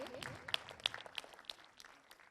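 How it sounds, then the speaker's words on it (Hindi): Audience applause at a Hindi film trailer launch event, a light scattering of claps with a few sharp individual hand claps standing out, fading over a couple of seconds. "जोरदार तालियां हो जाए उनके लिए"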